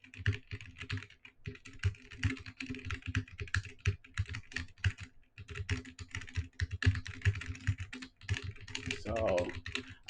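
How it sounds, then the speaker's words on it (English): Rapid clattery keystrokes on a loud mechanical keyboard, picked up by a budget desk microphone indoors, come in quick irregular bursts with brief pauses, moderately close, with a faint voice murmuring briefly near the end. "this is what it sounds like while I'm typing on a mechanical keyboard"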